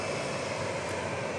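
A plane taxis at Dallas Love Field airport, its engine producing a steady, loud, continuous roar and broadband hiss throughout.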